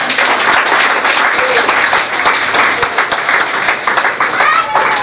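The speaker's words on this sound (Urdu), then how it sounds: "بہت ساری تالیاں ان کے لیے" Audience applause at an Iqbal Day ceremony addressed by the director of KISE, a dense, steady round of clapping from a large crowd that holds loud and continuous for about five seconds, with scattered voices mixed in.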